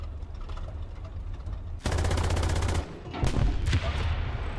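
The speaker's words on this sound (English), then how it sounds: "Also, the machine gun works, too." A tank's machine gun fires in War Thunder as a rapid burst of rattling shots, then a few shorter bursts, over the low rumble of the engine.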